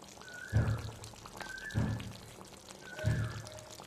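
Ghee is spooned into a simmering pointed gourd and prawn curry, giving three soft pouring splashes with sizzle spaced about a second apart, close and moderately quiet, with no talk.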